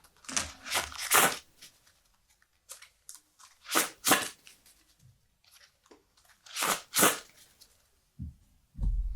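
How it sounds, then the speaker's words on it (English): Trading cards in a Flesh and Blood card game deck being shuffled, heard as several short crisp riffling bursts separated by pauses, close and fairly clear, with no talking. "I put this card in my hand and I will shuffle my deck."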